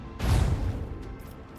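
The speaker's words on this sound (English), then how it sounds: "Fire the macro cannons." One sudden heavy blast from the macro cannons of a warship in the Warhammer 40,000 game Rogue Trader, a loud boom that fades into a rumbling tail.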